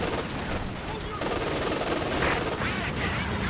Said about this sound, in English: to bait these grenadiers into the machine gun that's covering the cutoff now